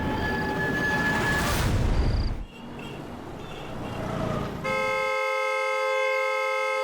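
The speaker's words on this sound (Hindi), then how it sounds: "नॉन स्टॉप हॉर्न बजा रहा है?" A car horn blares nonstop, loud and steady, over rumbling traffic noise that dips briefly before the horn continues unbroken.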